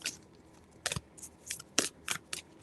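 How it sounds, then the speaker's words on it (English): Stiff tarot cards are shuffled in a series of quick dry riffles and snaps, coming in short uneven bursts, close and quiet, with no voices. "These cards are hard to shuffle."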